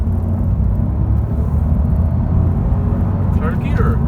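Steady, loud engine and road rumble inside a Honda Civic VTEC Turbo as it pulls away through the gears, a constant low drone with someone talking over it.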